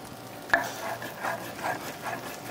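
A knife cuts through fajita beef on a board with one sharp tap at first, then a series of soft slicing, rubbing strokes in an even rhythm. The sound is close and quiet, and no one speaks.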